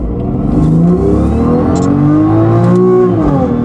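A BMW M4 with newly fitted downpipes revs hard, its engine note rising and falling in loud, sustained sweeps that fill the whole stretch without pause.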